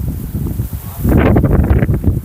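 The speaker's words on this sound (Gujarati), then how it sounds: "ઉપર તો એવી હવા આવે છે જેની વાત મૂકી દે" Wind blows through a garden with trees, a loud rushing and buffeting that strengthens midway into gusty rumbling against the microphone, with leaves rustling and no talk.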